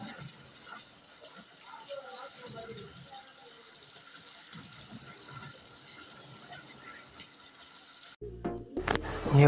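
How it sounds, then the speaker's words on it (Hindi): Water pours continuously from bowl to bowl in a tiered concrete garden waterfall fountain that recirculates, making a steady soft trickling wash, cut off near the end by a sudden louder clattering noise. "छोटे प्याले से बड़ा प्याले में पानी आएगा और सबसे बड़े प्याले में जाके फिर ये सर्कुलर हो के आ रहा पानी ऊपर"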